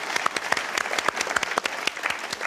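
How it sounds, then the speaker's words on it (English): Audience applause at the end of a Follies stage show, many hands clapping in a dense, steady patter of close, fairly loud claps that fills the whole stretch without pause. "Give yourselves a round of applause."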